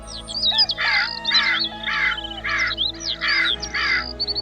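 An injured bird calls with harsh, crow-like caws in a courtyard, six loud, close calls repeating at a steady rhythm with no talk.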